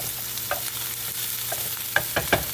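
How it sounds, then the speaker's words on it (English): Red onions sizzle softly in a pan over medium heat, with a few scraping stirs toward the end, heard close and without talk. "I'm gonna start off with some onions, some red onions. You want to just get that a little saute a little bit."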